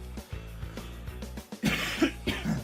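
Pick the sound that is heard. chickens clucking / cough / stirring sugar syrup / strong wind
cough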